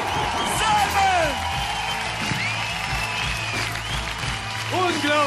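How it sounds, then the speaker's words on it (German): Audience applause and cheering fills a hall at the 2010 poetry slam championship award ceremony, steady dense clapping throughout with a host's voice speaking over it. "Applaus."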